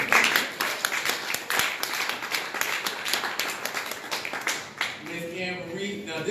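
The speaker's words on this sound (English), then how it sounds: "Let's give another round of applause." An audience claps and applauds at a campaign fundraiser for a 5th Ward candidate, a sustained crackle of many hands that thins out toward the end, with voices faint underneath.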